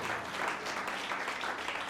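A congregation at a Hindi-language Christian church service claps loudly. The applause is dense, continuous and close, with no voices over it.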